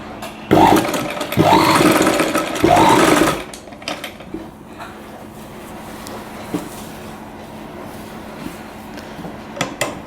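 A sewing machine stitches sleeves with piping onto a readymade dress in three quick, close, whirring bursts, followed by a quiet stretch of faint cloth-handling clicks and rustles.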